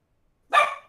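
A puppy dog lets out a single sharp, close bark, loud and short with a quick fade and no talking.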